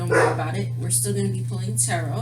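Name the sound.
dog barking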